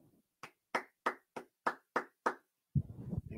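Seven crisp, evenly spaced hand claps ring out alone in a quiet room, followed by a brief muffled thump and noise at the end.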